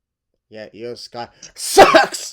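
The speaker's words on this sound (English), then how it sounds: "What was that? Sneeze." A person sneezes loudly and close-up, a sharp, explosive burst that comes right after a few quick words from a man.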